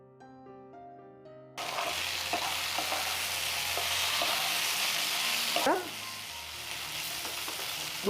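Lady finger and potato (bhendi aloo bhaja) frying in a pan: a loud, continuous sizzle with occasional scrapes of a spatula being stirred through it.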